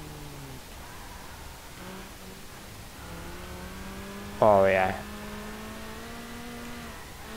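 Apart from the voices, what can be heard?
car engine driving and revving in Need for Speed Underground video game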